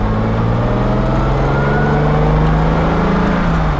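A modified 1968 Jaguar XKE Series 1.5 roadster with a 4-speed, heard from inside while cruising gently, its engine a smooth, steady mid-pitched drone with a slowly rising tone and constant wind and road noise.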